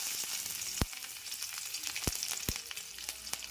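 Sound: tempering ginger, garlic and green chillies in hot oil on high flame

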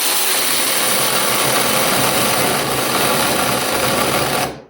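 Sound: cheap 48 volt cordless saw running

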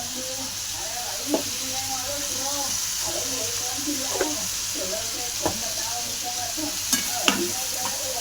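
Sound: onion frying with salt in a pan

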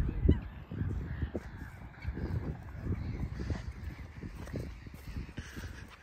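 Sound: birds calling outdoors on a farm

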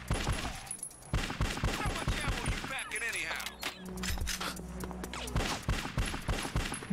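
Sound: gunfire in the video game Bad Boys: Miami Takedown

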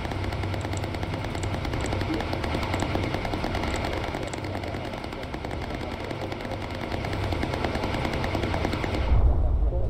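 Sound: machine gun fire from a bomber turret in the video game Bomber Crew

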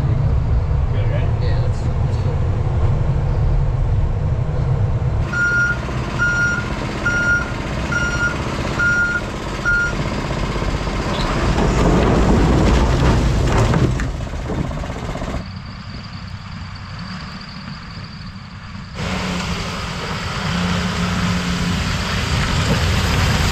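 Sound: excavator engine running while driving

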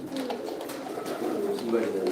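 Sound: fancy Sirazi pigeons cooing

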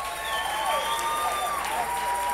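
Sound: audience applause for the co-hosts

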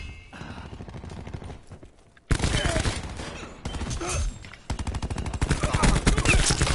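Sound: shotgun gunfire in the video game Call of Duty: Black Ops 4

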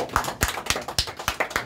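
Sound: crowd clapping at a rally

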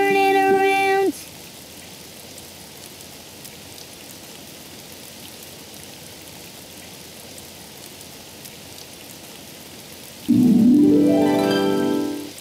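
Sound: rain falling outside in a cartoon

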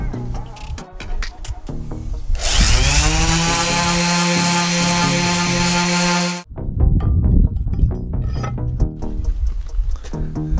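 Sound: power sander sanding wooden mattock handle

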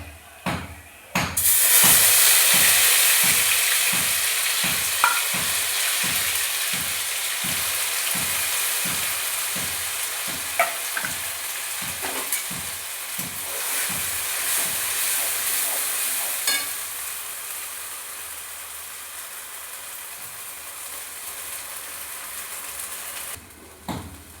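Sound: taro (mankochu) paste frying in hot tempering

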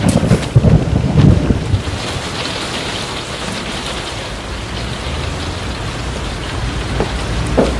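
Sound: rain falling

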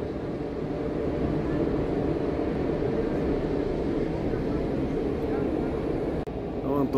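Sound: train passing on railway bridge

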